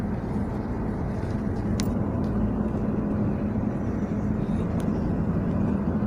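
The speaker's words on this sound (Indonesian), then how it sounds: "Ini mobil balak masuk juga," Heavy log truck, running empty without its timber load, rolling along a newly opened toll road in Riau, a steady loud low rumble with tyre roar sustained throughout, other traffic faintly behind.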